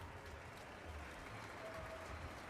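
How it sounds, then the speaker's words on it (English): A crowd claps in the city-building video game Frostpunk 2, giving a steady wash of applause that stays even throughout at a moderate level. "Oh, they're already clapping."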